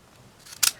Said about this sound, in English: there's my scissors.